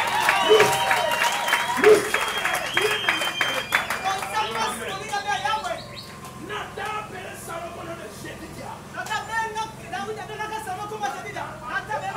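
A church congregation applauds and cheers for the Lord Jesus Christ during a worship service, giving loud, sustained clapping and crowd noise with voices and music mixed in, easing somewhat midway.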